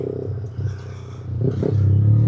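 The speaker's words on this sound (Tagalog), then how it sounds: "Medyo maingay yung motor guys." BMW motorcycle engine while riding, likely a C400GT or F900 on a dealer test drive, a steady low rumble that swells and grows louder toward the end, with no talk over it.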